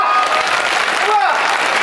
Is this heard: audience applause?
yes